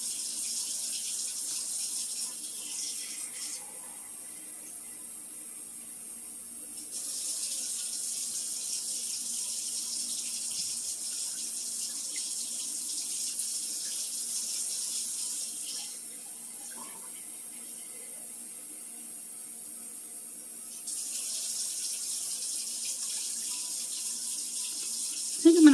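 Tap water runs into a cooking pot for chicken soup, a soft steady gush at moderate distance that eases and swells a couple of times as the flow shifts, with no one talking.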